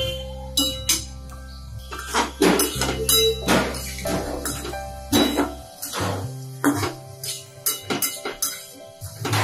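A spoon stirs potatoes in a pan over a very low flame while a prawn curry cooks, making close, irregular scrapes and knocks against the metal, with a low steady hum underneath.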